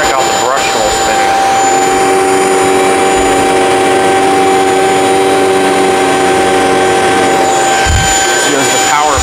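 A Shark Vertex stick vacuum runs loud and close with a steady high-pitched whine while its brush roll spins on carpeted stairs, sustained throughout with a brief dip near the end.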